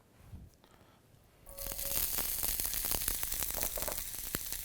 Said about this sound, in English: We're going to add some onion.